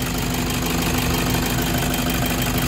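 A Toyota D4D diesel engine idles steadily with a throttle delay fault, a constant low rumble with a faint knocking texture running evenly throughout, close by with no talk.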